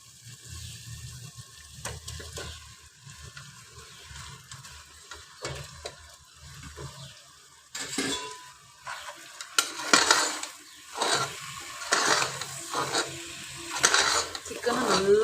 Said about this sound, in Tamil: சிக்கனை நல்லா வதங்கணும்.